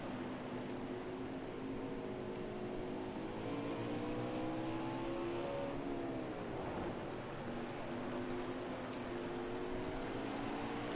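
Dirt late model race cars run on a dirt oval at a Texas track, their engine drone steady and continuous, with pitch sweeping up and down as they pass at a distance.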